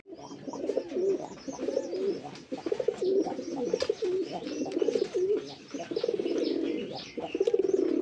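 Rajgolla pigeons coo steadily and close by in repeated throaty rolls, several birds overlapping in a continuous murmuring chorus with no talk.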